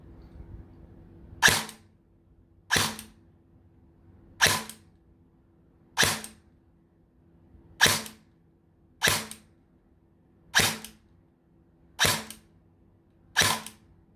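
Arcturus AK-12 airsoft rifle with an M140 spring firing ten single shots at a slow, even pace, each a sharp snappy crack close by, with quiet between shots.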